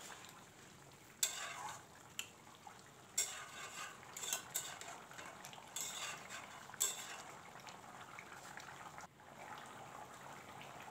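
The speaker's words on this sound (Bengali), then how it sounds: "নামানোর আগে একটু গরম মশলার গুঁড়ো দিয়ে নাড়াচাড়া করে নামিয়ে দেব।" Spoon stirring a pot of taro and tuna fish curry, with a scatter of clear scraping knocks against the pot over a soft simmering hiss, close by and fairly quiet.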